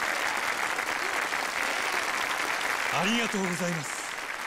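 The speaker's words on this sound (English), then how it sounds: "Of course they're gonna applaud." Steady, loud audience applause fills a live stage show, with someone speaking Japanese over the clapping near the end.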